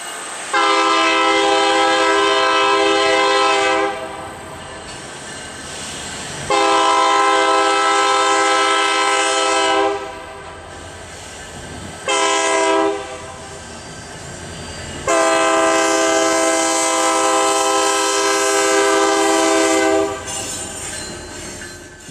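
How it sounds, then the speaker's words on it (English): A BNSF freight train pulled by a GP39-3 and a snoot-nose SD40-2 diesel locomotive crosses Highway 34 in Albia, Iowa, sounding long, loud, repeated horn blasts over a steady rumble of engines and rolling wheels. "BNSF 1874, a snoot-nose SD40-2, pull a long cut of equipment across Highway 34 in Albia."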